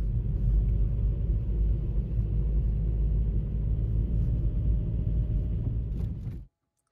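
A Volkswagen Golf's engine runs with a steady, loud low rumble as the drive begins, on a long road trip from Estonia to Poland. It holds constant, then cuts off abruptly near the end.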